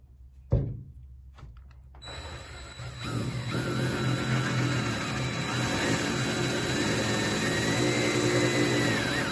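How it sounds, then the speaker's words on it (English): A power drill whirs steadily for several seconds after a couple of sharp knocks, grinding loudly and continuously through a fiberglass hood on an Early Bronco close by. "I'm just going to put my hand up here and then drill through"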